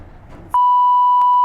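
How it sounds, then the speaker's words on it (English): A brief murmur of voices cuts off into a loud, sustained single-tone beep that holds steadily to the end. "Yeah, you'll have to beep it out."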